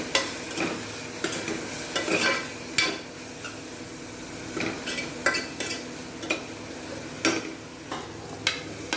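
Green chilies go into a pan for a Kerala-style breakfast curry. A steady frying hiss runs under repeated stirring and clinks of a utensil against the pan, close and moderately loud, with no talk.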